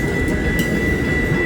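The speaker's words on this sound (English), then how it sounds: "here comes one of the more beautiful trains in the world" A Pacific Surfliner passenger train passes close by on the San Diego coast line, giving a loud, steady low rumble with a sustained high-pitched tone over it.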